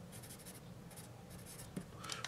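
A Camel HB pencil scratches across paper in short, soft strokes, very faint and close, with light tapping near the end.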